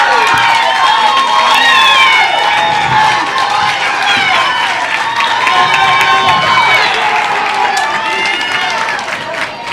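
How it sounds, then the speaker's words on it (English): Loud, vocal crowd cheering and shouting at an intercollegiate bowling team championship match, dense and continuous near the listener, with excited voices and scattered clapping throughout. "Got a big crowd here this morning, and they are very vocal and loud."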